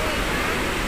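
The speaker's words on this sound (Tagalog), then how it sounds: "Natural falls, swimming pool." Natural waterfall beside a swimming pool, a loud, steady broadband rush of falling water filling the whole short moment.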